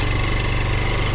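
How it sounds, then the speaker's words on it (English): A rice tiller cultivator engine idles close by in rural Philippine province, a loud, even chugging rumble that holds steady without pause and with no voices over it. "it's the rice tiller."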